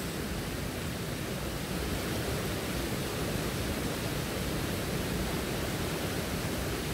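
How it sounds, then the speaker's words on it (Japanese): Nanase waterfall in Hitachi, Ibaraki, heard as a steady, dense, broadband roar of falling water that stays loud and unchanging throughout, with no voices. "今日は茨城県日立市七瀬の滝というところに来てます"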